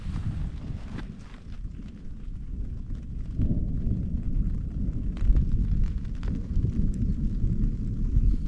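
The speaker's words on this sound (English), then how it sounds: "Lots of thunder." Low rumbling thunder rolls through a campsite during a thunderstorm with rain starting, a steady deep roar swelling slightly partway through and holding loud to the end, with faint scattered clicks over it.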